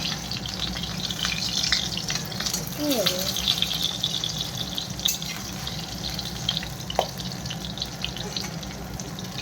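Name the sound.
fish pieces frying in a pan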